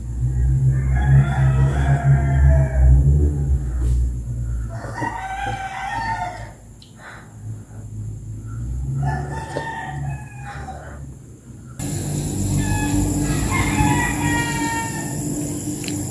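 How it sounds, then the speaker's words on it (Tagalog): Roosters crow loudly in several long calls, one after another, over a constant high-pitched electrical whine and low background rumble. "Nanggigising na ang mga manok."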